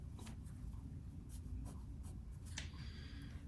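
Pencil drawing bold lines on paper, a soft scratchy rubbing in several short strokes with a longer stroke near the end, quiet and close with no talking.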